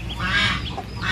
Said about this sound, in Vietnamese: cái con vịt vàng này nè các bạn, mình được tặng á các bạn.